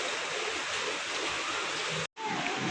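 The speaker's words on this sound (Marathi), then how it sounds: "बाहेर छान असा पाऊस चालू झालेला आहे" Rain falls steadily outside as a dense, even hiss with a brief cut near the end, heard alone without any talk.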